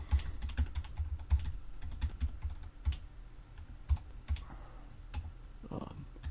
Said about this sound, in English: I'm just going to type in people's names.